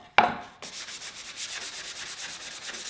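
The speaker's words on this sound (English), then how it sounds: "just get your sandpaper and give them a little sand" Sandpaper rubbed over a wooden tool box piece, a sharp knock at the start, then steady rhythmic back-and-forth sanding strokes, close and clear with no talking.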